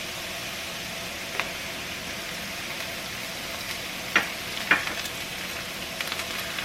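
Garlic and lemongrass kroeung paste sizzles steadily in a hot pan for a Cambodian chicken stir-fry, a constant hiss broken by a few sharp clicks and taps as it is stirred, with no talking.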